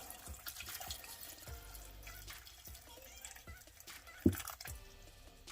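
Water poured from a tap into a pot of beans while cooking, a soft running trickle with splashy bursts and one sharp clatter near the end, moderately close.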